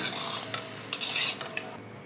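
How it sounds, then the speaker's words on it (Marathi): Cooked rice for masala chitranna is stirred in a pan, a spoon scraping and clinking against the metal in quick strokes over a low background hiss. "आता भात आपण आहे ना सगळा मिक्स करून घेऊया."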